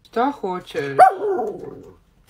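A few short, yappy barks and whimpering yelps from a small dog, close up, then a drawn-out whiny tail fading off.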